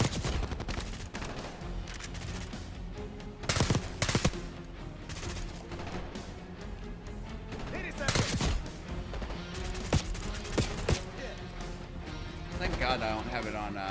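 Sustained gunfire in Call of Duty Black Ops 6, dense bursts and sharp shots throughout a chaotic firefight, with loud volleys around the middle and background game noise.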